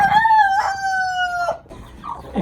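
A broody Aseel hen gives a loud, drawn-out call with a steady pitch, then a few short clucks follow close by.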